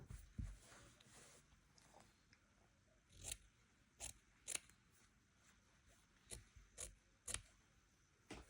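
Scissors snip through fabric around a stitched leaf shape for a hexagon bowl, a series of crisp separate cuts, some close together and some spaced out, close by and fairly quiet, with no talking.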